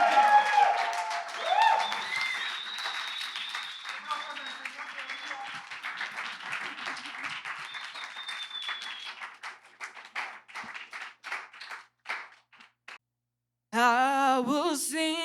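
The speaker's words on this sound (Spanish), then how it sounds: "Un aplauso para el profe que va a leer a primera vista." A masterclass audience applauds the teacher, with loud clapping at the start that thins into scattered, fading claps while voices murmur underneath, then a brief pause before a singer begins.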